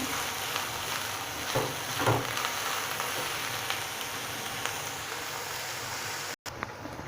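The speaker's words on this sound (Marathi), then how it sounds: "आपला आता कांदा चांगला बऱ्यापैकी भाजत आलेला आहे अजून थोडा चांगला भाजायचा आहे" Onions frying in a pan for a dhaba-style whole masoor dal, a steady close sizzle and crackle lasting throughout, with a brief stir around the middle and a short cut near the end.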